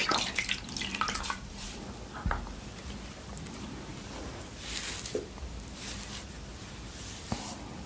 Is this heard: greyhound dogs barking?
no